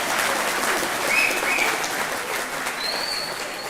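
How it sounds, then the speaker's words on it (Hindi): A television studio audience gives a steady wash of applause after a patriotic song is sung on a courtroom-style talk show. Faint whistles sound over the clapping. "ताली बजा दो।"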